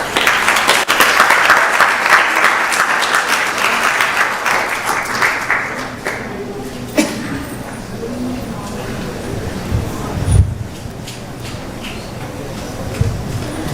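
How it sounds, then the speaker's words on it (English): Audience applause at a temple Sunday feast for a children's class, loud clapping for the first several seconds before fading into room murmur and movement, with voices talking later. "And we can give them a very nice round of applause."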